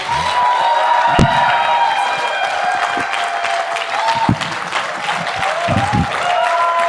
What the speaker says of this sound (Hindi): जोरदार तालियां होनी चाहिए आपके लिए, बाली साहब के लिए